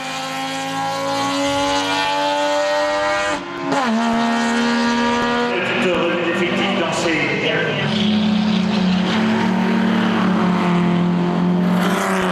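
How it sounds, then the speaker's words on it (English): A Saab 93 racing car with a two-stroke engine at the Le Mans Classic gives a buzzing, sharply tonal drone that rises and falls through the gears. Another car passes in the middle, and a commentator talks over it. "Let's have a listen to the two-stroke."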